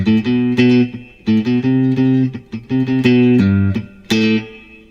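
Electric guitar plays the main groove of a pop song, a punchy, rhythmic run of plucked low-string notes with short gaps and a few sharp accents, loud and up close with no talking.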